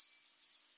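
A grasshopper chirps faintly in short, thin, high bursts, a brief buzz followed by a quick run of rapid pulses.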